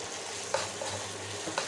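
Ginger-garlic paste fries in hot oil in a pan for a Bengali fish rezala, giving a continuous close sizzle with a few soft scrapes of the spatula as it is stirred.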